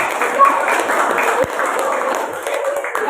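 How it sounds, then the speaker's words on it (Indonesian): Classroom group applauds together after a recitation, a steady sustained patter of clapping hands lasting a few seconds, fairly close and even in loudness. "Kita kasih tepuk tangan"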